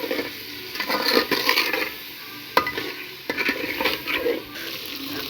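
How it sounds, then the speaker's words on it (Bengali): Meat with a little salt is stirred in a frying pan, with a constant close sizzle and a few sharp scrapes and clinks of the spoon against the pan. "এবার নেড়ে নেব।"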